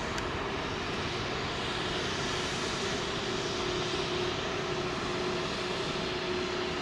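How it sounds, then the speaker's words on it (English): Jet airliner engines, Pratt & Whitney or GE powered, on a Delta 767-400 at London Heathrow runway 27L, a steady distant roar and rumble with a faint tonal hum, continuous and building slightly, no talking. "I could hear a Pratt & Whitney powered jet."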